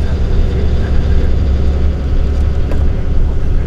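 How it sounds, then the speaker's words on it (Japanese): Inside a night highway bus, the engine gives a loud, steady low drone and rumble with faint rattles over it, heard close from the cabin. "エンジンの音がですね、主に大きくなってきて、運転手さんの車内放送があまりよく聞こえてきません。"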